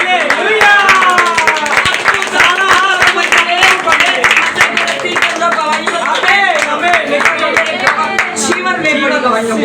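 A congregation at a Sunday church meeting and birthday celebration claps in applause, dense rapid claps from many hands at close range, mixed with voices and cheering.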